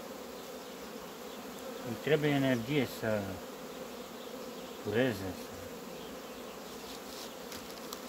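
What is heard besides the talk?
honeybees buzzing around a hive frame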